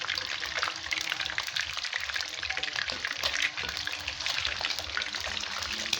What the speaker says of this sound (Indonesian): Mama goreng telur hingga kecoklatan, kemudian baru bisa diangkat.